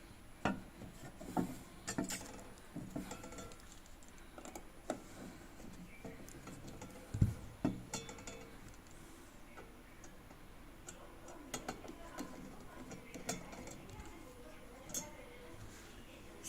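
Screws are unscrewed from an Ahuja music system speaker, a string of small close ticks and clicks from the screwdriver with occasional louder knocks, soft voices talking quietly underneath.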